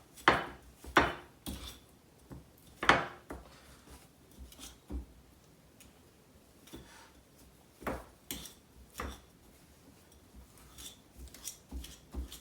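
Butter, sugar and salt mashed with a fork in a bowl: scattered sharp clicks and scrapes of metal on the bowl, irregular and close, louder at first and then quieter, with no talking.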